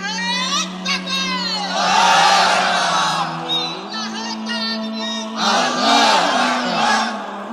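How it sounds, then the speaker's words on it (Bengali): A large crowd at a Bengali Islamic waz gathering during Ramadan chants slogans loudly in unison, rising and falling in rhythmic shouted waves with a leading voice over it. "দেন স্লোগান মারেন দেখি।"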